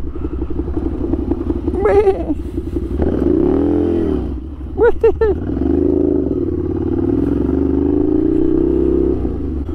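Yamaha 700 Ténéré motorcycle engine running steadily close by as the bike rides and turns around, with rising and falling revs and a few brief clattering knocks.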